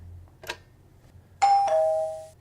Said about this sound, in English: The doorbell? Who could that be at this hour?